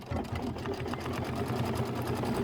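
An embroidery machine stitches a placement line for an apple design, a rapid steady mechanical chatter heard up close throughout.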